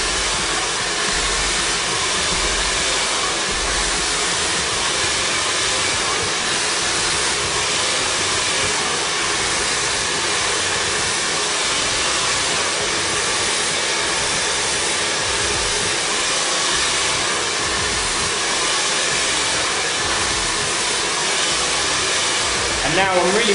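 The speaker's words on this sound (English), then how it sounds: "I'm doing a straight blow dry" Hair dryer running steadily while wavy hair is blow-dried straight with a round brush, a loud, continuous close whooshing roar with only slight shifts in tone.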